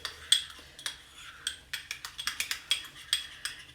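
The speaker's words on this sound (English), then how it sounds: "I'm stirring that in with my" A utensil stirs hot sauce into mayo in a bowl, making a rapid series of bright clinks and taps against the bowl, quickening toward the end with no voice.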